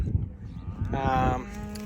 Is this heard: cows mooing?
yes